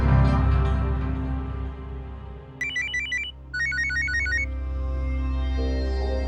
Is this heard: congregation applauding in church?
no